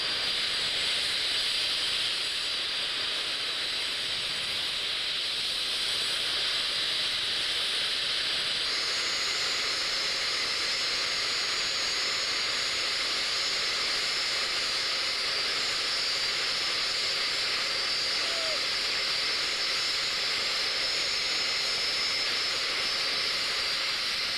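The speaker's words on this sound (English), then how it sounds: "I'm sure this is the Belgium Alpha Jet" A Belgian Alpha Jet passes at an airshow, giving a steady, loud jet roar and hiss that holds without letup and shifts slightly in tone partway through, with no talk over it.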